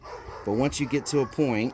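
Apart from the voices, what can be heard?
dogs barking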